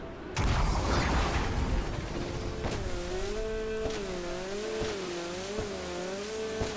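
Jet ski engine in GTA V Online: a loud burst at the start, then a wavering, rising and falling motor whine that holds steady and close, with no talking.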